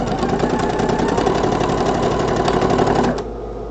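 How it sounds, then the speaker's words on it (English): A sewing machine stitches quilt squares together with a steady, fast mechanical whir and rhythmic needle chatter, running continuously for about three seconds before cutting to a quieter hum. "And then I'm going to sew the lighter ones together as well."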